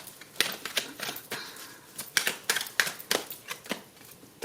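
Tarot cards being shuffled during a reading, a run of crisp papery riffles and snaps coming in quick uneven bursts at close range, with no talk.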